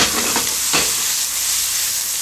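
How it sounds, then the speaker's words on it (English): Food for a clam sauce sizzles in a hot frying pan, a loud, steady hiss of frying with a few brief stirring scrapes near the start. "And that'll go into my frying pan"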